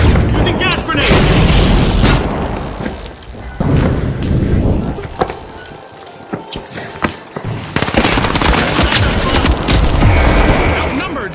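Gunfire and explosive blasts in The Finals, a team shooter game, with gas grenades in play: dense, loud bursts of shots and booming hits that briefly thin out before another heavy barrage.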